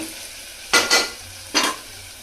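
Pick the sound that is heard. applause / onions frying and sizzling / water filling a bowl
onions frying and sizzling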